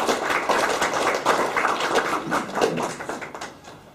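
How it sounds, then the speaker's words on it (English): Conference audience applauding a speaker after a talk on jobs for poor Indonesians, steady, moderately loud clapping from a roomful of people that tapers off toward the end. "Shall we give him a round of applause?"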